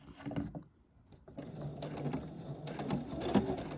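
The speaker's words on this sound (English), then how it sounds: "So I'm gonna sew right up to that point" A sewing machine stitches a pocket bag seam on regalia fabric, a quiet mechanical whir in short runs with a brief lull early on, then steadier buzzing.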